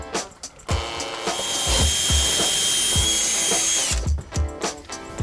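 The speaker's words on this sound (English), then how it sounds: "And I'm gonna pre-drill that." A power drill pre-drills a wooden cleat, whirring loudly and steadily for about three seconds, with rhythmic low thumps as the bit bites. Shorter bursts and clatter follow as it stops.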